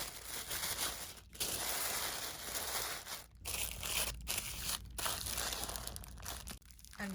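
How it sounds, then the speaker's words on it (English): Tissue paper is crumpled and stuffed into a glass cup, giving continuous close crinkling and rustling with a few short pauses between handfuls. "Each one gets filled with tissue paper so that I can start filling the inside of the cup."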